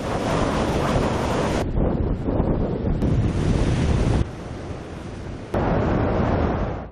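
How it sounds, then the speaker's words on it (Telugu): Heavy sea waves pound the beach road at Uppada in Kothapalli mandal during Cyclone Vardah, throwing stones onto it. The surf roars loud and continuous alongside strong wind buffeting the microphone, with a couple of abrupt shifts in level and no talk. "కెరటాల ధాటికి బీచ్ రోడ్డుపై రాళ్లు వచ్చి పడుతున్నాయి."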